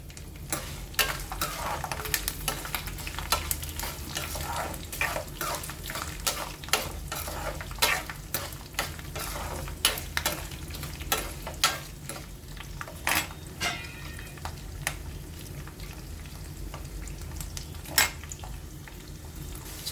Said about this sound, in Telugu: ఇలాగ తెల్లుల్లిపాయలు బ్రౌన్ కలర్ వచ్చే వరకు వేపుకోవాలి